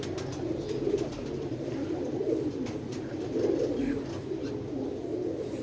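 A large pigeon, about two to three years old, coos in steady low rolling phrases throughout, close and unbroken by voices.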